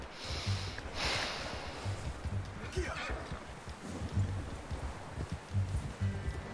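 Horse walking in Red Dead Redemption 2, steady soft clip-clopping hoofbeats on dirt under quiet outdoor ambience, with faint snorts and voices talking.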